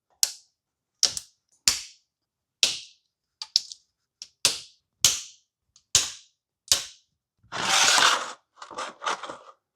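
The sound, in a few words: ratchet undoing cover bolts on a Yamaha R6 engine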